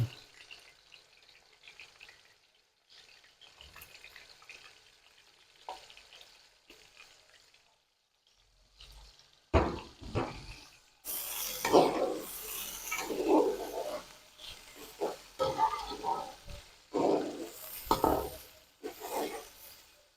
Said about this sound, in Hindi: अब इसमें शामिल कर दूंगा मैं ये 4 दरमियाने साइज के प्याज